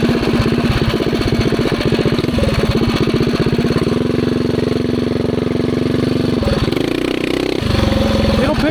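A cheap secondhand mini bike with re-geared drive, its small engine buzzing and revving steadily while ridden in a backyard, loud and close, with pitch rising and falling between throttle changes; no talk over it.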